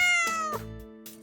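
A cat meows loudly and close up in one drawn-out, rising then falling call, followed by a fainter second meow near the end.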